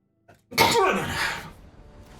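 A single sharp sneeze from a person during a Magic: The Gathering online game session, with a quick in-breath just before, up close and loud, then a faint room tail.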